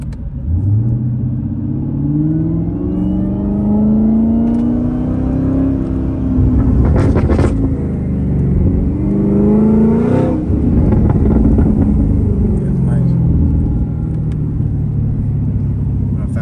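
A Chevrolet Camaro ZL1 1LE engine with a loud aftermarket exhaust revs repeatedly, the deep rumble climbing and falling in pitch with sharp crackling bursts between revs.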